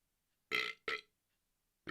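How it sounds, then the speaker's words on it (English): Two quick, fairly loud burps follow one another closely from a person at a microphone, with silence before and after. "here comes the first burp of the podcast."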